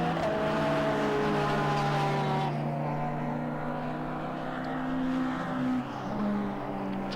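Classic touring race cars, among them a Ford Mustang, run on a wet, slippery track at Thruxton, their engines droning and shifting pitch as they pass, with a commentator's voice running over the noise.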